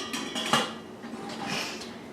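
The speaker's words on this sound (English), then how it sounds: "put the lid on" A lid set onto a cooking pot holding Orville Redenbacher popcorn kernels, giving one clear metallic clank with a brief rattle, close and fairly loud, followed by faint clattering and no voices.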